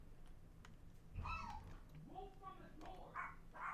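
A dog yelps and whimpers in a few sharp, rising cries, as if it had just been tripped over, mixed with household noise and nearby voices.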